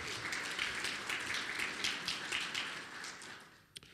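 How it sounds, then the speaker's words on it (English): Applause from the audience at a city legislative event, a dense patter of many hands clapping steadily before fading out near the end. "Please give them a round of applause, please"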